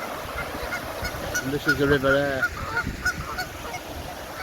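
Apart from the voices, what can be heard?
Canada geese honking by a river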